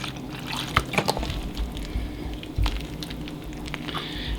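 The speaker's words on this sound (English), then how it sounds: "add in some plant-based milk" Plant-based milk poured into mashed potatoes, close soft liquid splashes and squishy wet sounds with a few small clicks, brief and moderately quiet, without talk.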